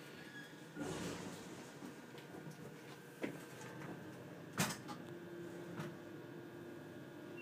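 The motor of an Otis hydraulic service elevator at The Inn at Spanish Bay in Pebble Beach, California, runs with a faint, steady hum, broken by a few soft clunks and knocks.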